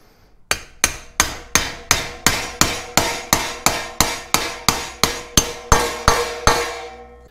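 A bearing race tapped into a boat trailer hub with a disc, seventeen or so sharp metallic hammer blows in a steady even rhythm, close and loud with short ringing decays, no talking.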